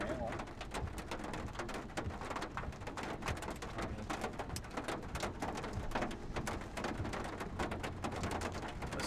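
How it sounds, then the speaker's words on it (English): Hail and rain fall during a North Texas thunderstorm, a dense, continuous patter of hard impacts on surfaces, with steady clatter and no pause across the stretch, heard close and without talk. "Some hail."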